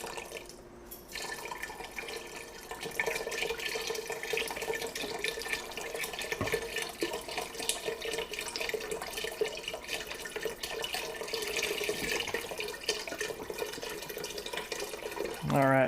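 Broth pours steadily into a pot for butternut squash soup, a continuous splashing liquid stream at moderate level.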